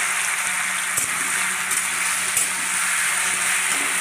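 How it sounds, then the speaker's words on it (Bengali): Steady frying sizzle as pieces of taro and hilsa fish head are stirred in a pan with a spatula, with a few light scraping knocks, close and continuous. "এবার এগুলো ভেজে নেব।"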